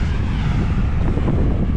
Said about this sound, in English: Wind's going crazy.